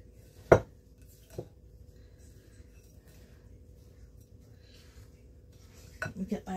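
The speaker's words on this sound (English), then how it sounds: "Just give it a good mix." A spoon scrapes and clinks against a bowl as beef stew ingredients get mixed at home, two sharp knocks early, a quiet stretch, then a quick cluster of clinking stirs at the end.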